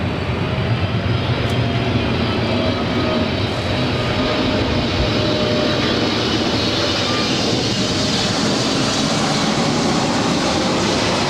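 A plane landing on runway 24 right at Los Angeles International Airport gives a loud, steady, broadband engine roar that holds unbroken for the whole stretch, close and continuous, with no voices.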